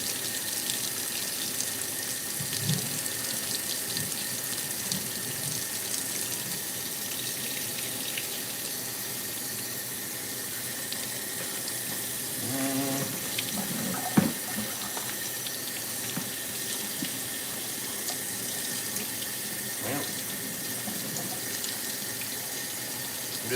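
Tap water runs steadily from a faucet into a sink, rinsing blood off bagged steak, a continuous close hiss and splash with a few brief clatters from handling, no talking.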